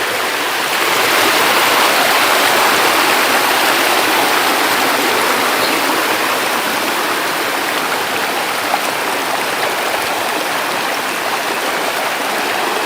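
A river rushes along a slippery trail where shrimp traps are set, a loud, continuous broadband roar of flowing water, close and unbroken.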